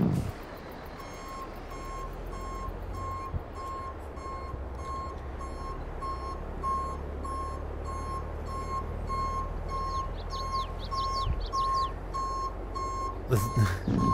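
Truck reversing alarm in Farming Simulator 22: a steady, repeating high beep runs throughout over a constant low engine drone, with faint clanks and rattles late on, and no talk.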